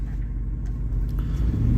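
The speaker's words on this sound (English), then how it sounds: "The idle's dropped a bit." A supercharged Jaguar, bought cheap, idles close by with a steady low engine rumble that holds evenly throughout the short stretch.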